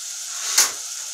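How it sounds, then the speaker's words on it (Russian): Food sizzles in a pan over high heat while cooking a vegetable rice soup: a steady, close hiss with one brief, louder crackling flare midway. "На сильном огне ждем, пока поджарится."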